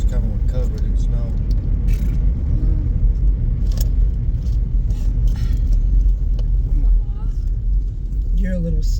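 Snow-covered cars roll along a road in Jackson, Kentucky, during the 2025 flood, a steady close rumble of passing traffic lasting throughout, with people talking over it.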